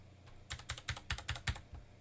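Quick keystrokes on a computer keyboard used by a game developer, about eight sharp clicks in an uneven burst, close and clear with no talking.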